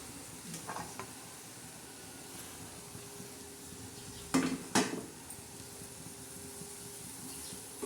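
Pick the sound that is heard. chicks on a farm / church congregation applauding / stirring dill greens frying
stirring dill greens frying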